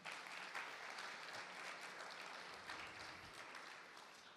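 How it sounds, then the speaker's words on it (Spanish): A church congregation gives loud, sustained applause during a service, a dense even clapping that fills the space throughout and fades a little toward the end. "Dale un fuerte aplauso al Rey."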